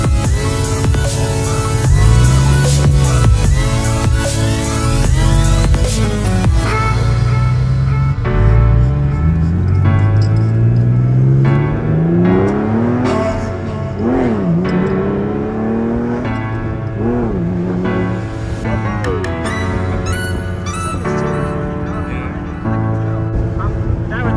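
A 2002 Porsche 911 Carrera engine accelerates while driving, its revving pitch sweeping up and down in a loud, continuous run, with a voice talking and other tonal sound layered over it.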